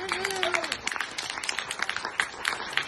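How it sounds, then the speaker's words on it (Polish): Crowd applause at a music festival concert fills the clip with dense, rapid clapping, while a voice speaks briefly near the start. "Jeszcze raz wielkie brawa"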